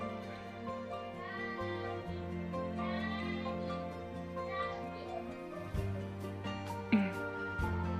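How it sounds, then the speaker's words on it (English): Young children sing and chatter in the background with high, wavering voices, sustained tones and small bursts, heard faintly and at a distance. "if you hear the noise in the background, it's just my kids singing and talking"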